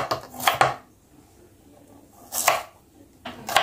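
A knife slices spices on a cutting board for soto ayam, with a few crisp close chops in two brief pairs separated by quiet gaps.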